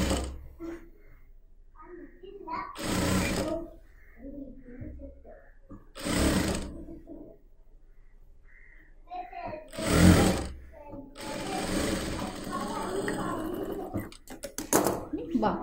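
A sewing machine stitching a churidar sleeve in three short, loud bursts of whirring needle clatter. Someone talks in the gaps between the bursts.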